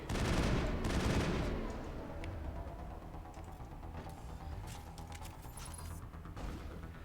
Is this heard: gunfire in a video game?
yes